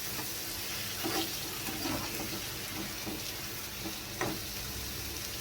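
A soybean and potato curry sizzles and fries steadily in the pan after a small splash of water is added, with occasional stirring clinks, close and continuous, with no voices.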